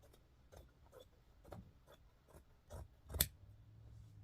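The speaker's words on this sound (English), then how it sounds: "I'm going to cut it on the true bias" Scissors cutting fabric on the true bias for bandanas, giving a series of soft, evenly spaced snips close by with one sharper crunch near the end, in a quiet room with no talking.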